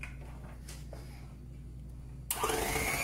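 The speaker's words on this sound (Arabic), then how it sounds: "نخلط الكل جيدا بخلاط كهربائي" An electric mixer blends crepe batter, switching on abruptly after a quiet stretch and then running with a steady, close whirring drone.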